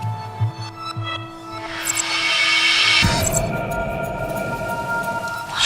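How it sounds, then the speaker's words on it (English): A low rumble in the video game The Complex, rising out of a swelling broad hiss and then holding as a deep, sustained rolling drone with no one speaking. "What's the rumbling, though?"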